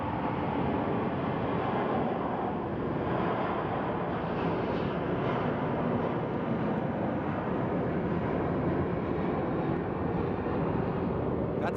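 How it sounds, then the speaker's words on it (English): A loud airplane passes at Sky Harbor Airport, its broad jet rumble filling the air steadily for several seconds, distant yet dominant, with no voices over it. "That's a loud plane."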